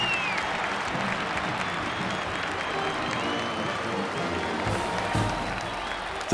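A vast crowd of 80,000 people at the opening of a world's fair roars with steady cheering and applause, a dense, continuous wash of clapping and voices that holds at full strength throughout.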